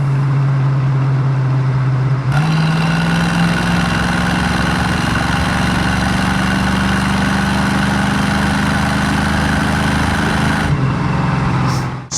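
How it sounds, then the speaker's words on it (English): A 1967 Ford Mustang GTA's engine and exhaust drone steadily while driving, loud and continuous, with the pitch rising once as the car speeds up and holding before easing off near the end. "We'll get on it just one more time here so you can see the exhaust."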